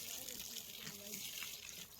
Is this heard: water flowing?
yes